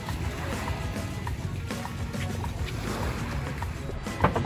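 A boat motor drones steadily during an island-hopping ride off Bohol, with wind and water noise and faint voices in the background.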